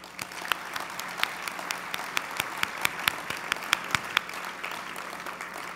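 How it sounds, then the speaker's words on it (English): Applause from a dinner audience at a chamber of commerce annual dinner, a steady wash of many hands clapping with sharper individual claps standing out, moderately distant and filling the room without talk. "please join me in thanking our outgoing chair, Chris Carpenito of HESS Construction, with a round of applause"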